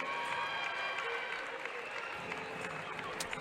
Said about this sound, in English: Gives a chance for Taylor James to get a round of applause